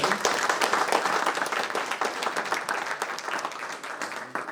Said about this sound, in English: giving the same round of applause once again for our amazing organization that pulled this event